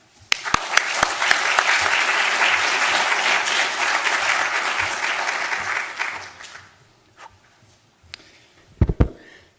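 A seminar audience applauds steadily to welcome a speaker, the clapping building quickly and holding for about six seconds before fading, with a few scattered claps and thumps afterward.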